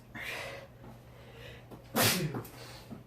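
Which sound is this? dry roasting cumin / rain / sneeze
sneeze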